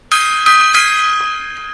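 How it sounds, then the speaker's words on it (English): A gong struck loudly and close, rung several times in quick succession with bright metallic overtones that ring on and slowly fade. "A little bit of a gong time there."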